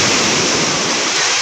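Sea waves wash onto a beach in a steady, loud, broadband rush with no breaks and no voices.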